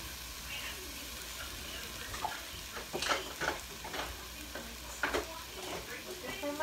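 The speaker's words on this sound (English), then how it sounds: "So we've got all our spices cooking in there." Spices and meat cook in a pot, with a steady frying sizzle and irregular scrapes from a spatula as the mixture is stirred up close.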